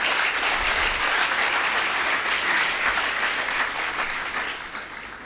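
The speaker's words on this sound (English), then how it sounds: "Let me garner a huge round of applause for entire team and the faculty members" A school audience applauds the team and faculty at a primary school event, dense steady clapping throughout that fades slightly toward the end.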